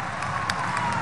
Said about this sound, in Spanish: pidiendo un minuto de aplauso por mi amigo Néstor Carlos Kirchner